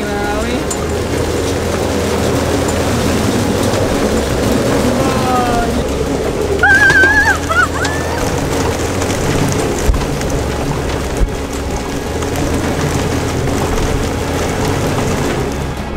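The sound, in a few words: hailstorm on a small sailboat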